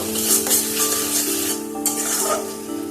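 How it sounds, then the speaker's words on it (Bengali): Turmeric, cumin, coriander and Kashmiri chilli powder being fried in a pan, a close scraping stir over a faint sizzle with light utensil clinks, no speech. "মশলাগুলো একটু সময় নিয়ে কষিয়ে নেব।"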